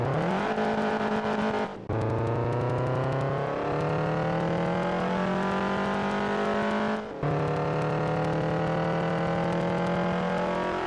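A race car in a racing video game accelerates hard with a loud, steady engine whine that climbs in pitch. Two sharp gear shifts break it, each followed by another rising pull. No voices are heard.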